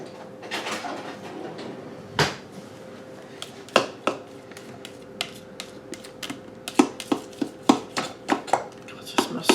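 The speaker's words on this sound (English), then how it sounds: "let's scrape that down" Salsa ingredients, including fresh garlic, are scraped down inside a bowl: a string of sharp, close taps and scrapes, scattered at first, then coming quicker toward the end.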